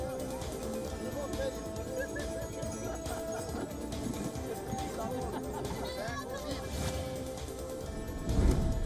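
Horses race through a Romanian village during an Epiphany race, hooves clattering in a dense, steady drumming with occasional whinnies and a louder rumbling burst at the end, under crowd voices.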